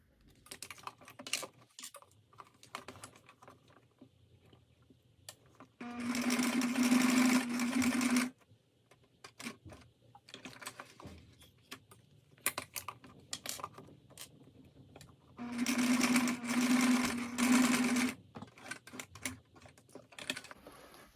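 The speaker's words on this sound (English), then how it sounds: "I'm gonna go ahead and stitch it here" A sewing machine stitches an ice cream pouch in two loud, rapid bursts of a few seconds each, separated by quieter handling noises and faint clicks.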